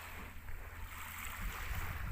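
Waves wash on a clear-water beach at Masiri where small rental boats float nearby. The surf is a soft, continuous hiss with a low rumble, steady and faint, with some wind noise on the microphone and no voices.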